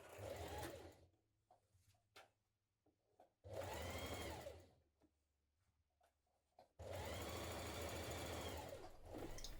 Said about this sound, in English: Now stitch down your side seams.